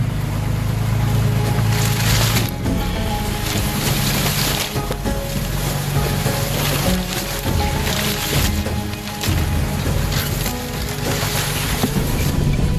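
A Jeep drives along an off-road track with a loud, steady rumble, wind buffeting and scattered rattles and bumps throughout, and no talking.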